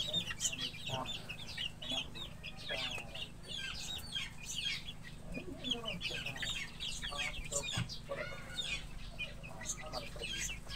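Young chicks peep with high, rapid chirps in a backyard coop, with clucking hens and other fowl mixed in. A steady low hum runs underneath, and a voice talks briefly.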